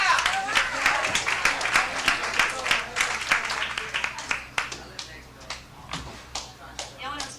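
A comedy club audience claps for a comedian, with loud, dense applause that gradually thins into scattered individual claps.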